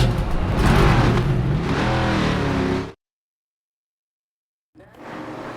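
Race car engine revving loudly in the NASCAR 25 video game, a strong rising roar for about three seconds, then abrupt silence before the engine sound returns.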